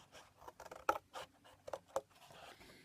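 An extra pair of kitchen scissors snips through tassel material. There are several short, crisp cuts and scratchy rustles at an uneven rhythm, close and fairly quiet, with no talk.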